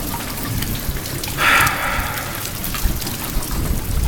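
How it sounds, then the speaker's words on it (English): Heavy rain pours steadily and loudly around a parked car, a dense continuous hiss with scattered louder drops and no voices. "I hate flipping rain."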